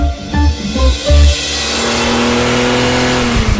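A BMW Z4 Roadster accelerates in a loud, close burst of engine revving and throaty exhaust, settling into a steady rising drone as it pulls away.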